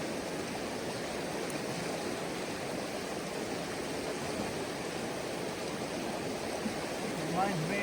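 Creek water at a gold-panning spot flows steadily, a continuous broadband rush and babble with no pauses, moderately close and even in loudness throughout.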